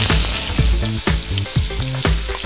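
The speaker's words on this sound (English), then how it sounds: "Right, so our oil is nice and smoking hot. Let's now fry up our okra." Okra hits smoking hot refined oil, a loud, dense frying sizzle that carries on steadily, with rhythmic music playing underneath.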